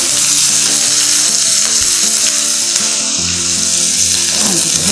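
Onions and carrots frying in a pan for vegetable fried rice, a steady bright sizzle with stirring and utensil scrapes, close and continuous.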